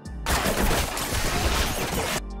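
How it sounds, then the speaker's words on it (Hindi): Machine gun firing in a movie action scene, a sudden loud burst of rapid continuous automatic fire lasting about two seconds, dense and close, then cutting off abruptly. "इसी बिल्डिंग में दूर से चाओस के आदमी ने भी मशीन गन से फायरिंग शुरू कर दी।"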